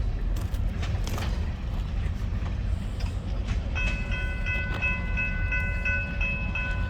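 Kiamichi Railroad freight train rolling eastbound near Hayworth, Oklahoma, a steady rumble of cars passing close by with a sustained multi-tone horn sounding partway through, heard alone without talk.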